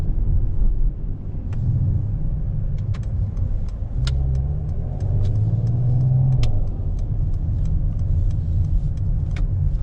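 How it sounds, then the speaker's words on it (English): A Mercedes-AMG GT 43 4-door coupe with 4MATIC+ cruises gently, its exhaust a steady, close, low rumble that swells slightly mid-drive, with light clicks sprinkled over it. "we can hear the noise of the exhaust"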